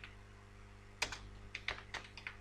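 Code is typed on a computer keyboard in a short burst of quiet, close key clicks that starts after a second of near silence and continues unevenly.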